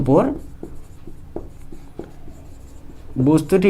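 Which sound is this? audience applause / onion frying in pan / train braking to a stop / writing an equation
writing an equation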